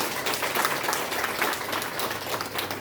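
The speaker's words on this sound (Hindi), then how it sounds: "तो सबके लिए तालियां प्लीज।" Audience applause at a Cerebral Palsy Day celebration, a broad, steady wash of many hands clapping together, fairly loud and continuous throughout with no talk over it.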